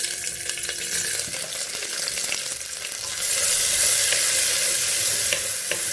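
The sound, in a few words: finely chopped onions frying with browned cumin seeds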